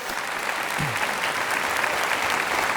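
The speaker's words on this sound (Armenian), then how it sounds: "եկեք ծափարենք բարձր" Studio audience applauding at a television club show in Armenia. Dense, steady clapping fills the whole stretch, loud and close, with no talking over it.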